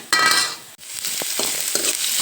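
Two chopped onions sizzle in hot oil while a spoon stirs them in the pan, giving a steady frying hiss broken by several scraping strokes, close and fairly loud.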